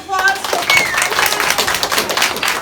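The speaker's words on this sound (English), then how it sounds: "So big round of applause" A round of applause in a school room during a surprise teacher-of-the-year award visit, brisk close clapping from a small crowd with voices mixed in, after a brief tonal sound at the start.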